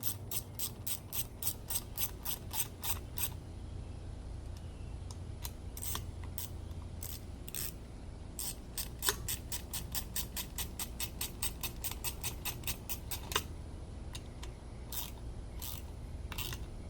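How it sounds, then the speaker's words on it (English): A ratchet tightens bolts in an X pattern, its pawl clicking in fast, steady bursts of short sharp ticks with brief pauses between strokes, close and clear throughout. "I'll go back through and tighten them down"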